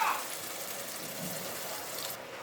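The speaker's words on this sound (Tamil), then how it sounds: "கொஞ்சம் தண்ணி சேர்த்து கலந்து ஊற்றிக்கிறேன்" Water poured into a pan of masala paste during cooking, a soft continuous splashing trickle at moderate level, steady throughout and fading slightly near the end.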